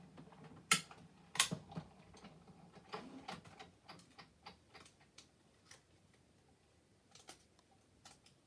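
A die-cutting machine cutting out card pieces, giving quiet mechanical ticking and ratcheting with a couple of sharper clicks early, then a steady series of faint clicks alone.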